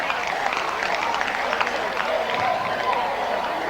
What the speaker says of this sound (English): How about a big round of applause for a gallant Tom Burns from WA.